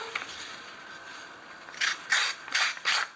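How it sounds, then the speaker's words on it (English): A blade is drawn through a Victorinox carbide sharpener in a few quick rasping strokes, four short scrapes close together near the end after a quieter start. "I'm going to start off with the Victorinox carbide sharpener"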